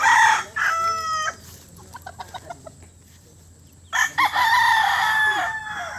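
A rooster crows loudly, then scattered clucks follow before another long crow, with hens clucking nearby in an otherwise quiet outdoor setting.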